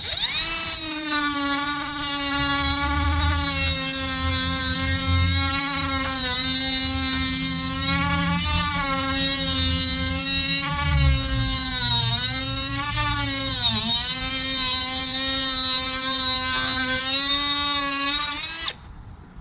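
Milwaukee M12 Fuel 3-inch cordless cut-off tool cutting through metal, a loud, continuous high-pitched whine with a grinding edge that wavers slightly in pitch as the wheel bites, then stops abruptly.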